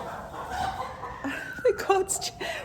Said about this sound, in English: chasing the chicks